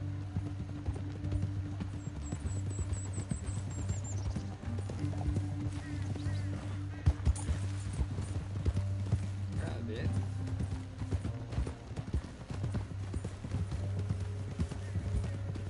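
Hooves clop steadily at a walking pace over a low rumble, with brief spoken words partway through.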